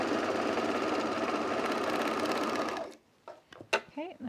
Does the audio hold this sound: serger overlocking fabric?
yes